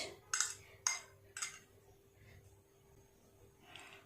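Metal spoons and forks clink onto plates of pasta in three quick, bright taps close by, followed by a faint scrape and a softer clatter in an otherwise quiet kitchen.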